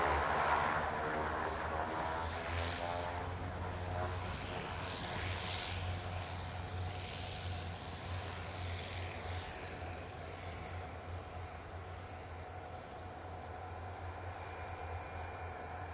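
An aircraft departing at the 2013 RAF Waddington Airshow gives a steady, distant, broad engine roar that holds evenly throughout with no talking.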